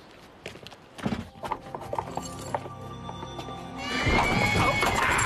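Horse whinnying and snorting inside a stable, with hooves clopping and shuffling on the floor, the sound building into a loud, sustained noisy burst toward the end.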